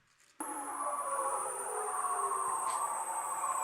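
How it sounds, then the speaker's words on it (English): Mating call of a bearded seal: a long, loud, sustained warbling tone that sweeps and trills steadily after a sudden onset, heard alone with no voices. "that was the mating call of the bearded seal"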